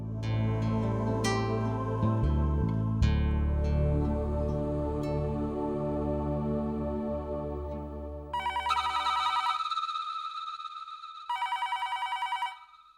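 Telephone ringing in a Hindi TV drama scene: background music plays first, then two loud, bright bursts of electronic ringing, each lasting a couple of seconds, with no speech.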